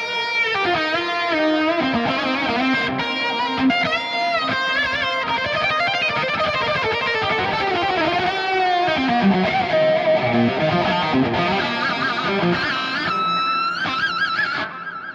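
An electric guitar plays a lead line through a stereo rig with a clean boost in the effects loop and reduced reverb, giving a sustained, singing tone with bent notes and flowing phrases, loud and alone.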